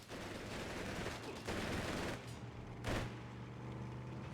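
Wehrmacht machine gun fire in a World War II real-time strategy tournament match, steady rattling bursts under a constant wash of battlefield noise, with a sharper, louder crack near the end.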